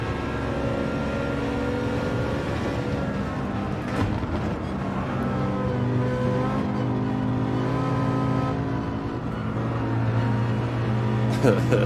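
Racing BMW M3 engine in Gran Turismo 7 on a mountain track, a steady sustained drone with revs rising and falling throughout, with someone talking over it and brief thumps of contact.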